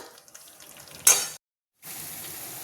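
Bitter gourd stirred into spices in a hot pan: a quiet scrape and shuffle, then a loud sizzling burst that cuts off abruptly and gives way to a steady, softer frying hiss.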